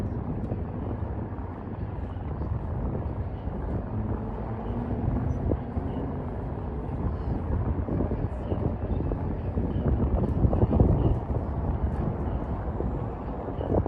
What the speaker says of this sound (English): It is getting windy though out here.